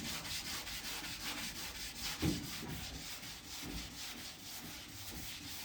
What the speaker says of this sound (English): I'm letting the block and the sandpaper do all the work.